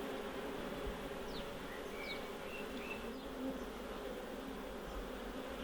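Bees hum in a steady, moderately quiet drone inside an opened wild hive as bridging comb is broken apart from the frames, with a few individual bees zipping past.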